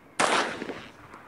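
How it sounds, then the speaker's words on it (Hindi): A single sharp gunshot goes off in the Granny Chapter Two video game, a loud, abrupt blast with a quick decaying tail and a faint click after. "गन की साउंड सुनाई देती है"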